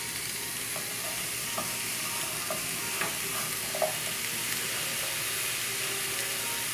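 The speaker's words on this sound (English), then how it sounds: "Fat side down, everything will come out. And put the onions in there." A rack of lamb laid fat side down sizzles in a pan with onions and oil, a steady soft frying hiss with occasional small pops and spatters, close and continuous, no voices.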